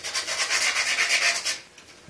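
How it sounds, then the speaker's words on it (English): Sandpaper rubbed back and forth over copper pipe while replacing a well's main ball valve, a close, rhythmic scratchy rasp of quick strokes that stops near the end. "Take the sandpaper that came with the kit."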